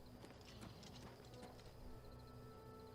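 Horse hooves clip-clop on the ground in the video game Oblivion Remastered, a fairly steady, moderate patter with a faint whinny-like tone under ambient game sound and music.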